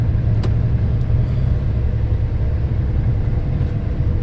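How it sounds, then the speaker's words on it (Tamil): A loaded lorry labours uphill on the Thoppur hills road, heard from inside the cab. Its engine gives a loud, steady, low drone and rumble that barely changes, with a faint click or two and no talk. "ஒரு கியர் வாங்குறான் இப்போ. 5வது கியரில் ஏறுறான் இப்போ."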